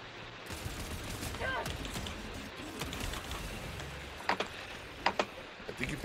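Gunfire in a shooter video game amid constant background noise, with scattered sharp shots and a few louder cracks near the end; voices are faintly present.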